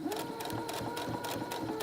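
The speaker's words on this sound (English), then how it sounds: "sew over to where you meet your top stitching" A sewing machine stitches at a steady pace, its needle ticking in a quick regular rhythm over a faint motor whine, close and moderately quiet.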